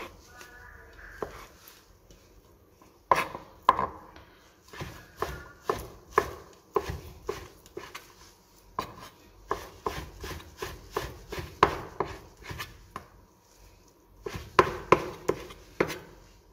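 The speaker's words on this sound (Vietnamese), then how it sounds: "Thái giò mỏng nhé." A knife slices Vietnamese pork sausage (giò) thinly on a board for Tết stir-fried noodles, giving a close, steady run of crisp chopping strokes with a short pause partway through.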